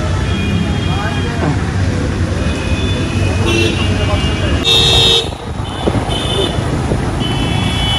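Traffic roars continuously at the Raghunathganj bus stand while car and bus horns toot repeatedly over it. Voices sound faintly in the busy roadside din.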